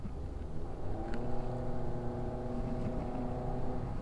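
Engine of a 2022 Honda City car accelerating, a steady rising drone with harmonic tones climbing gradually, heard from inside the cabin at moderate level with no talk.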